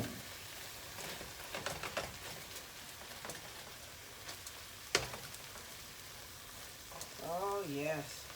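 Shrimp fry in a pan while a risotto with garlic and Chardonnay is being made, giving a faint, continuous sizzle with scattered pops and a sharp clink near the middle, and a brief voice at the end.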